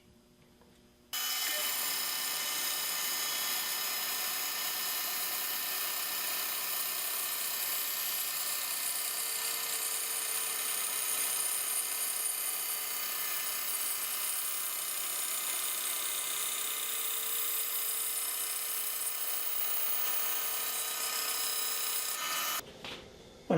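A bandsaw slices a wooden board with a loud, steady, even hiss and whine for about twenty seconds, starting abruptly and cutting off near the end.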